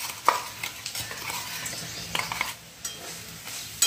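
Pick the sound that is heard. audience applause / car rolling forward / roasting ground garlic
roasting ground garlic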